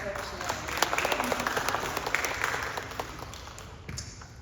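Congregation applause fills a church baby dedication, steady dense clapping from many hands that holds at an even level for several seconds before thinning out, with a faint voice beneath.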